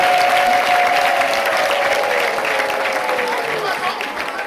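A church crowd at a Christian gathering gives loud, sustained applause. Many hands clap together, then the sound slowly fades while a high sustained tone glides downward through the clapping.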